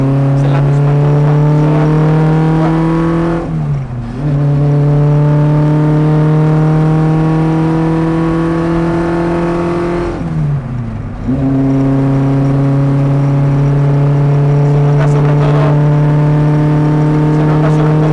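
An Abarth race car with a naturally aspirated engine revs hard and climbs through the gears on a circuit, a loud, steady droning note rising in pitch, dropping sharply at two gear changes, then climbing again.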